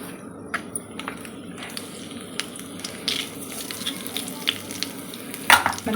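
Ghee tempering with bay leaves for jeera rice sizzles steadily in a pan, with sharp crackles and pops scattered over the hiss and a louder burst near the end, close up and without speech.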